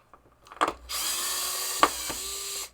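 Power screwdriver backing out the large flipper bushing screws with washers on a 1973 Williams Triple Action pinball playfield: a few short taps, then a steady close whine of the driver running for about two seconds with a brief click partway through.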